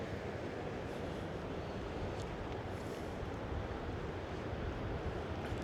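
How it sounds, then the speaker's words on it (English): Powerful current of the Ohio River at the Falls of the Ohio near Clarksville, Indiana, a steady broadband rush of moving water mixed with wind buffeting the microphone, continuous and fairly loud throughout with no talking. "Check out that powerful current of the river right over here."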